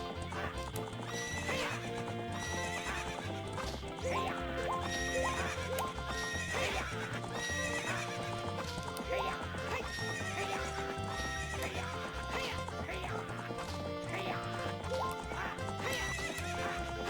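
Galloping hooves clip-clop steadily throughout a horse racing video game, with repeated horse neighs and whinnies breaking through over a continuous busy game soundtrack.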